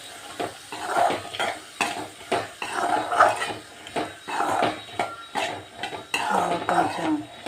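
Chickpea sundal being stirred in a pan, with a utensil scraping and clinking against the metal in repeated bursts at close range, and no talk over it.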